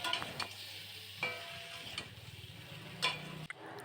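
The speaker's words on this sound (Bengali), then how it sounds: "আর একটু শুকনো লঙ্কা গুঁড়ো দিয়ে ভালো করে নাড়াচাড়া করতে হবে।" Cauliflower with poppy seed paste and spices is stirred in a pan: a few faint scrapes and light taps come over a soft, quiet sizzle, with no talking.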